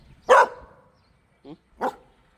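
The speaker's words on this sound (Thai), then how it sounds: "เห่าใคร" A dog at a rural house in Sisaket, Thailand, gives two sharp, close barks with a small yip between them, each separated by quiet.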